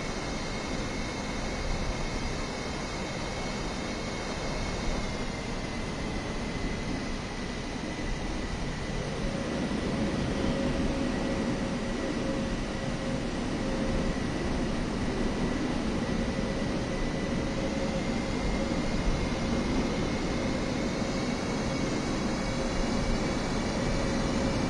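Steady airliner cabin noise during landing approach, a constant broadband engine and airflow rush with a faint hum that shifts slightly partway through, moderately loud and unbroken with no talking.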